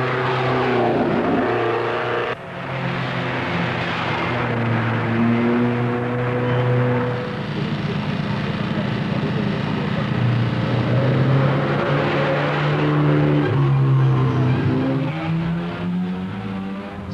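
Rally cars pulling away at the 1972 Monte-Carlo Rally: loud, continuous engine drones that rise and fall in pitch as cars rev and accelerate, layered and sustained for the whole stretch without voices.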